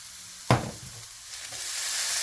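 Ham hits a hot pan with mushrooms with a sudden burst of sizzling, then settles into a steady frying hiss that grows slightly louder.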